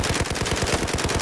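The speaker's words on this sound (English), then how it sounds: "Fire whatever you got, Sergio." Sustained rapid automatic gunfire in Battlefield 4, loud and close, with shots hammering in an even fast rhythm throughout without pause.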